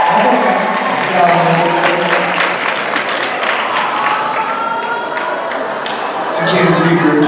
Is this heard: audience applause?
yes